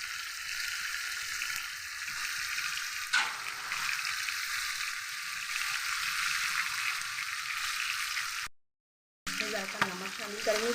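Beef liver pieces sizzle steadily on a hot tawa with lemon juice and roasted cumin added, a dense continuous frying hiss with a brief sharper spatter near the start and a short break near the end.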